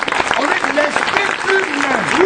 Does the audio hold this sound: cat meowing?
no